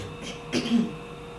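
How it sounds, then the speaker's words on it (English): One short, low throat clearing close by, a soft rasping grunt over faint background hum. "I had to clear my throat."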